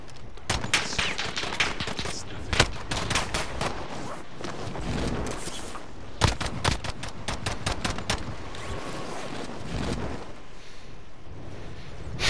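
Warzone match gunfire: rapid automatic bursts and single shots crackle in repeated volleys, some near and sharp, others softer, over a steady background rumble with little talk.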